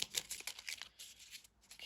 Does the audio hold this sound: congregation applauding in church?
no